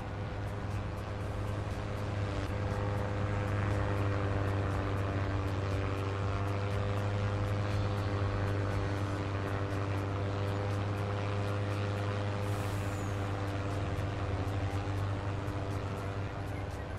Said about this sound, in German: Das Sound von diesem alten Motorboot.